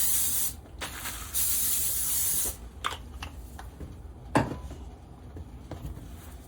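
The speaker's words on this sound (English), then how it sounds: "So you want to spray this with some oil spray." Short hissing bursts of an aerosol oil cooking spray onto aluminum foil, two longer sprays followed by a few quick puffs and light crinkling of foil, close by.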